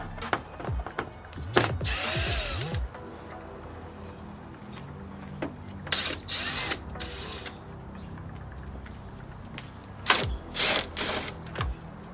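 A ratchet driver backs out T30 Torx screws from underneath the front bumper of a BMW F30 335i, giving bursts of quick clicking ticks separated by pauses, plus a few clunks and scrapes nearby, with no talk.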